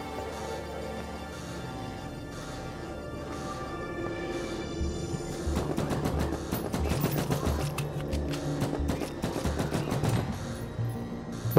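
Rapid bursts of video game gunfire from a weak pistol, loud and steady throughout, dense overlapping shots with a mechanical ring, building in intensity in the second half.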